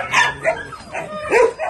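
Puppies at a dog shelter give a few close, short barks and high yips in quick succession.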